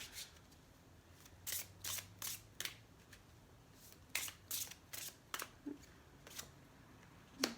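Oracle cards being shuffled and drawn by hand in a quiet room, a series of crisp riffling bursts in irregular clusters, with soft card slides between them and no talking.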